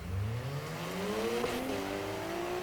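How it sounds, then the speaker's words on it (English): A turbocharged Mazda rotary engine revs hard in the Need for Speed Heat racing game, a steady, loud, rising buzzy drone that climbs through the gears with no voices over it. "Oh, lovely Mazda sound. I just love the turbo and the rotary engine."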